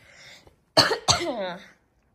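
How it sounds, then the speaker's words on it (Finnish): A person coughs in two sharp, close bursts after a brief quiet breath, with the second cough trailing into a rough, wheezy exhale, all fairly loud against otherwise silence. "sori, jos tässä videossa kuuluu yskimistä"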